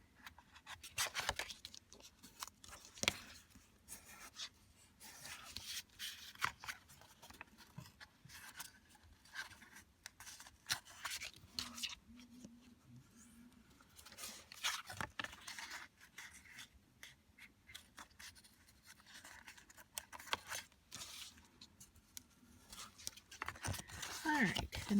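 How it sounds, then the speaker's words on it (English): Paper tabs around a 3D paper star are creased and folded, giving soft scratchy rubs, crinkles and sharp little taps at close range, with someone talking over them. "So the first ones I'm folding here are the tabs around the outside of the star."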